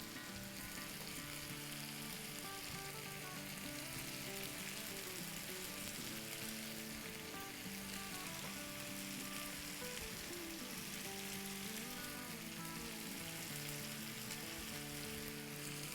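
Tandoori chicken coated in leftover masala cooks on a stovetop, giving a steady, dense sizzle and crackle of frying that runs unbroken throughout at a moderate level, with no voices.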